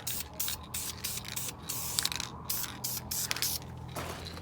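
Short hissing bursts of aerosol spray are applied in a rhythmic series of close pulses as a coat goes onto a 94 Cobra SN95 head gasket.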